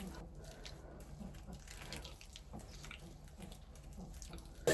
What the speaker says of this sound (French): Et on rince.